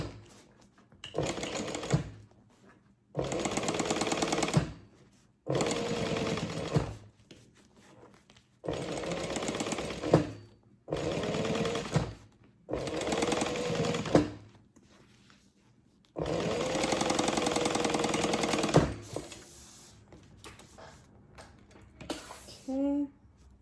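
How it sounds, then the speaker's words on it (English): A domestic sewing machine topstitches fabric on a backpack in seven or eight loud, steady bursts of rapid whirring stitching, the longest near the end, separated by short pauses. "we're gonna top stitch on the fabric,"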